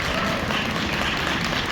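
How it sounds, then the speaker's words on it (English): Polite applause from the audience at a Pokémon card collecting panel at Vancouver Fan Expo, a steady, even wash of clapping that holds at the same level from start to finish. "Polite applause, I love it."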